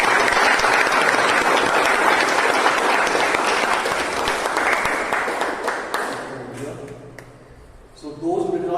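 A Toastmasters meeting audience claps for the best speech evaluator, a full, lively round of applause that holds steady, then thins and fades toward the end before a voice begins speaking.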